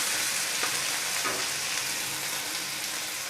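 A fish head frying in hot oil gives a steady, dense, loud sizzle with crackling spatter throughout, close up and without talk.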